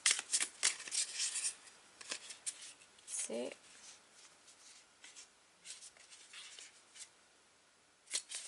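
Cards are shuffled in quick riffling bursts, soft and close, with a brief word spoken partway through and pauses between shuffles.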